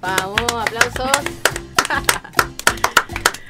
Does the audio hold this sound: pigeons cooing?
no